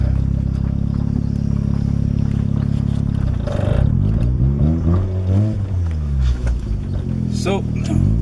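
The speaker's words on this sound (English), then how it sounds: "As you can hear, the car is outside warming up." A Mazda RX-7 FD warms up outside, its engine idling with a low, steady rumble and faint revving while a person talks over it close by.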